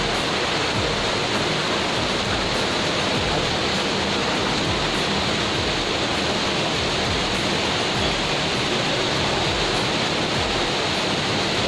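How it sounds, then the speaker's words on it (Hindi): Deep river water rushes steadily past large boulders on the trail to Chota Mahadev in Pachmarhi, a dense, unbroken roar that fills the whole stretch at constant loudness. "बहुत ही गहरी नदी है और बड़े बड़े पत्थर और पानी की आवाज़ आ रही होगी"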